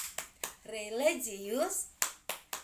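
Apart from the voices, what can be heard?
children doing a rhythmic clapping chant (tepuk PPK)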